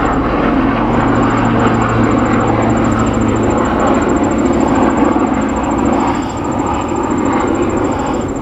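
Helicopters passing overhead make a continuous heavy engine drone with a sustained low hum that fades partway through, leaving a rough broadband roar that carries on steadily, with no one speaking.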